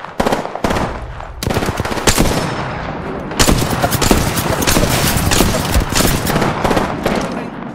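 Automatic weapon fire in the video game Apex Legends, loud bursts of rapid shots with brief gaps, then a sustained stretch of dense repeated firing.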